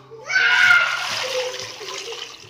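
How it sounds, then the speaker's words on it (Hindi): Water is poured into a pan to make jaggery syrup for rice laddoos, a full splashing pour that starts loud and then eases into a steady trickle. "तो इसमें डाल दे रही हूँ मैं पानी"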